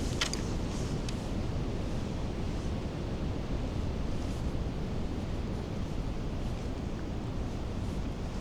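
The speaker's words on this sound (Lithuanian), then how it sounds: "Seniai toks vėjas buvo, tai šiandien ryt palaužys biškį medelius." Strong northwesterly winter wind roars steadily beside a small river, buffeting the microphone in a loud, unbroken rush with a few faint knocks early on.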